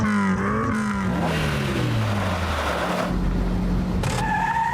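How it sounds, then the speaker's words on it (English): A Peugeot 205 GTI hot hatch engine winds down in loud falling sweeps as its tyres squeal and skid, followed by a brief fresh burst of revving near the end. "The French do it again. The Peugeot 205 GTI."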